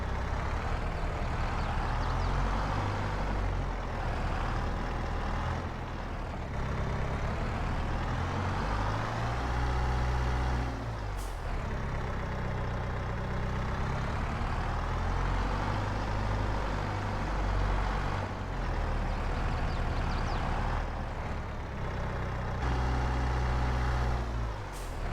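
Skid steer engine in Farming Simulator 22, a steady low diesel drone with rising and falling revs as it works, continuous throughout without talk.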